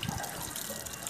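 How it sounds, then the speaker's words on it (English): Water runs steadily from a tap for hand washing at a locally made electronic hand-washing station, a soft continuous close splashing hiss. "So the water comes and you wash your hand very well."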